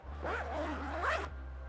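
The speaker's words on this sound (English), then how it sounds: "And zip your zipper up after you're done sewing." An invisible zipper on freshly sewn fabric is zipped up in one continuous, close, raspy pull of just over a second, sliding through rising and falling tones before stopping abruptly, with no talk.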